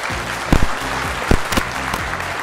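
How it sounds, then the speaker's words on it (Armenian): Wedding guests applauding together in a steady, dense clapping that runs the full length, with a few louder sharp bursts standing out. "եկեք եւս մեկ անգամ շատ բարձր ծափարենք օրվա գլխավոր հերոսներին"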